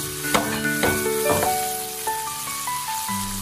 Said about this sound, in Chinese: 茄子加进来以后我们开大火快速的给它翻炒均匀